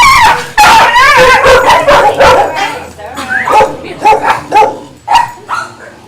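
Senior dogs at a sanctuary give a run of yips, whimpers and barks close by, layered over steady talking from a person.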